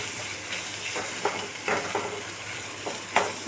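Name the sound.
sautéing spices with asafoetida and turmeric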